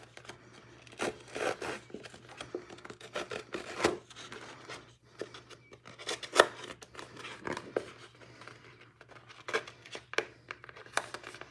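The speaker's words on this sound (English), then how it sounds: "I'm just taking my snips and scratching along the side of here." Metal snips scrape along the edge of scrapbook paper in a series of irregular, close rasping strokes, some short and some drawn out, with no speech.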